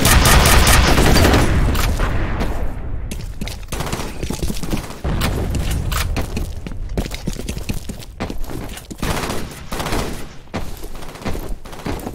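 A grenade blast and a heavy volley of gunfire in the shooter game F.E.A.R., loud and dense at the start, then continuing as rapid overlapping shots and impacts for the rest of the firefight.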